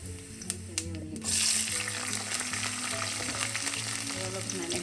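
Fennel seeds fry in hot coconut oil in a kadai, giving a steady close sizzle that swells into a louder burst after a couple of light clinks, then settles with faint crackling and a low hum.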